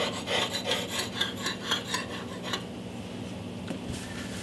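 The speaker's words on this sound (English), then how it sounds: "Now this is the time to get out my scraper, and I just scrape very, very lightly." A metal scraper drawn lightly across a smooth glass-top stove, a series of short rasping strokes close up, fading to quieter scuffing toward the end.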